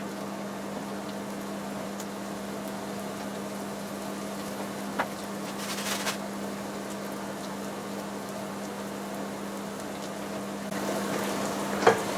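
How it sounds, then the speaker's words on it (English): Food frying in a pan: a faint, steady sizzle with a constant low hum, broken by a few soft clicks and a small clatter near the end. "So while that's frying off, I'm going to start assembling everything else"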